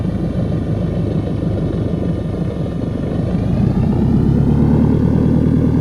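A throaty propeller engine of a Piper Archer III in the X-Plane 12 flight simulator drones steadily at close range, loud and continuous, its low rumble growing slightly heavier toward the end.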